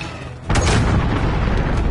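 A missile launch explosion in an online shooter video game, heard as a loud, sudden booming blast that breaks in after a quieter half second and then sustains as a broad, rumbling roar.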